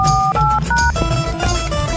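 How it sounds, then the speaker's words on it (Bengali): A telephone dials: a quick series of short, clean two-note beeps, one after another, heard close over a low background hum. "ভালো কথা মনে হলো বন্ধুর কাছে ফোন দিতে"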